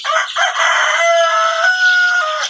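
A flock of one-month-old vaccinated Egyptian Fayoumi chickens on a farm in Taraganj, Rangpur, clucks and crows loudly and continuously, with many overlapping calls close by.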